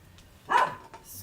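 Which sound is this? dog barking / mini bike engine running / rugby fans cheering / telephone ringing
dog barking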